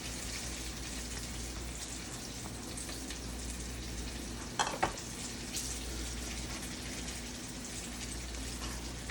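Garlic and ginger fry in a pan with a steady, even sizzle that runs throughout, broken by a couple of brief clinks near the middle.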